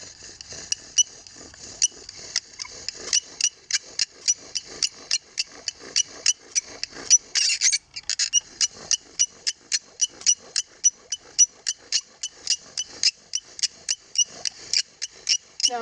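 A bow drill spins in the V-notch of a wooden fireboard, making a steady, rhythmic squeak-and-scrape with regular back-and-forth strokes, close and clear for about sixteen seconds, with no talking.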